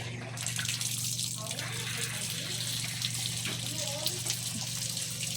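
Water runs steadily from a tap or hose during the replanting of green alugbati on an island, a continuous wash with a low hum beneath it and voices talking now and then.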